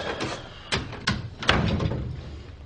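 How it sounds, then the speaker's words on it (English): A door is shut indoors, with a few sharp knocks and thuds of the door and latch heard close by over a quiet room hum, and no talking. "Well, shut the door."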